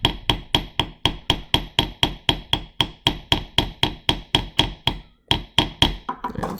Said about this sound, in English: I usually move to a little planishing hammer like this one to do the final hammering